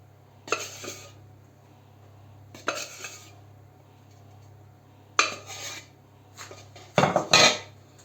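Baking powder is stirred into flour in a bowl in four separate bursts of scraping and clinking from a utensil against the bowl. The last burst is the loudest, with quiet pauses and a low hum between them.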